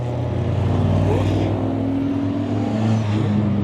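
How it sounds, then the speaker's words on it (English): Race cars at Silverstone roar past close by in a continuous, loud engine drone that swells and fades as they pass, with no talking. "Couple of the cars going past there"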